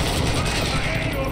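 Rapid machine gun fire crackles in Call of Duty Warzone 2.0 DMZ, set in the Koschei Complex. A dense, continuous burst fills the whole moment at close range, with voices talking over it.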